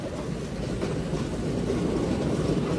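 A passenger train overtaking on a parallel track, heard from aboard a moving train on a Tirupati to Puducherry journey: a steady, loud broadband rumble of rolling wheels and rail noise throughout, with no voices.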